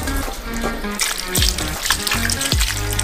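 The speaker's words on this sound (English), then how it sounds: "We transfer the watermelons to the sink and wash them thoroughly." Watermelons being washed in a sink under running tap water: a steady splashing stream with a few dull thumps as the fruit is handled, close by and fairly loud.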